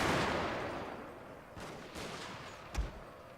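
Infantry volleys crack in the Fall of the Samurai strategy game: a fading burst of distant rifle fire followed by a few scattered, sharper shots, one louder report near the end.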